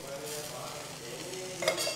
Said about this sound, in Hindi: सो ये साइड भी अब आप फ्राई कर लें।